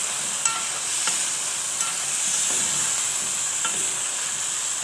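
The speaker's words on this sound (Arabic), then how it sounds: "انا شوحت البطاطس مع الكبده والقناصه" Potatoes stir-fried in a pan with chicken liver and gizzards give a steady close sizzle and frying hiss, with a few scraping stirs of the spoon through the pan and no talking.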